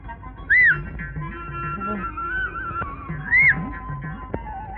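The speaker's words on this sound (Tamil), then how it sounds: "டேய், என்னடா விசில் அடிக்கிற?" Short whistled notes from a person, two separate bursts of rising pitch, sounding clearly over a noisy indoor scene with faint talk in the background.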